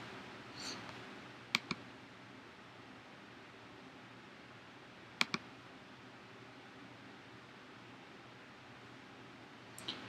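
A computer mouse gives a few faint, sharp clicks, some in quick pairs, spaced out over quiet room noise.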